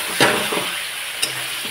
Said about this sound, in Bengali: এবারে দিয়ে ভালো করে কষিয়ে নেব